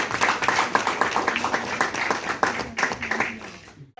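A crowd claps steadily at an outdoor gathering in a Supreme Court courtyard, welcoming a guest to the stage. The clapping is dense and close, with a little faint voice underneath, then breaks off abruptly at the end.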